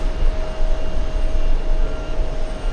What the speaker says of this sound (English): I think we have a big American Airlines 777 heading to the runway for takeoff